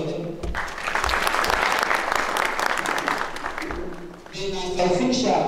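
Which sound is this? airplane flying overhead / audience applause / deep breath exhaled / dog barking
audience applause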